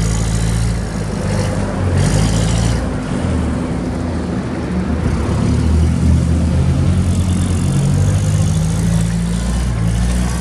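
A Hyundai HLF25C-5 5,000 lb cushion tire forklift runs during a demonstration, its engine idling close and loud as a steady mid-pitched rumble with slight surges throughout.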